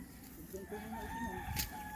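A rooster crows in drawn-out calls, with other fowl at a fighting-cock farm faintly clucking and crowing in the background at moderate distance.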